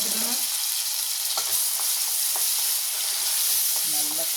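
Onions sizzling and frying in hot oil in a pan for a chicken fry, a steady close crackle with a few stirring clicks, no talk.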